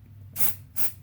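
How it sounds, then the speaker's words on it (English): Hairspray from an aerosol can sprayed onto hair in two short, loud hissing bursts close by, separated by a brief pause, with no talking. "let's just spray some of it and see what it does"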